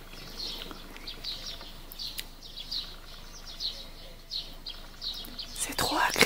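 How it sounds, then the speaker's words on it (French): Small birds chirp outdoors in Boseong, South Korea, a faint scatter of high, repeated tweets over quiet background hiss, with a brief clatter near the end. "Je sais pas si vous entendez juste le bruit des oiseaux."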